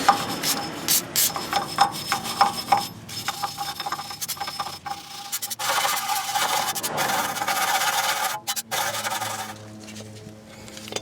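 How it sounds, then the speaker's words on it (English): A metal brush scrubs the brake parts of a 2002 Nissan Maxima, giving loud, close, rasping strokes in quick bursts with short pauses between them, with no voices. "If you have a metal brush, use that to clean everything off even more."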